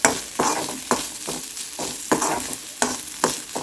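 Tempering in a kadai: mustard seeds, urad dal, dried red chillies and curry leaves frying in hot coconut oil, a steady sizzle broken by repeated stirring scrapes and spatters, close and alone without talk.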